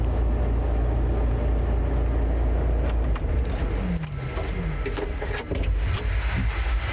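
A CMAR R 2500 cleaning machine runs with a steady low motor hum, overlaid by jangling, rattling clatter and brief tonal whines in the latter half.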